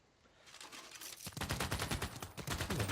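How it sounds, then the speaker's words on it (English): Dense, rapid bursts of machine-gun fire from a Civilization VI battle, building from a distant rumble into sustained overlapping volleys without any talk. "Now they're shooting my machine guns."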